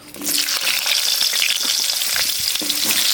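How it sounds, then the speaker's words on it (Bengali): Pointed gourd (potol) pieces frying in hot oil, a steady close hiss and crackle throughout, with a few light stirring scrapes near the end and no talk. "এবার পটলগুলো ভেজে নেব।"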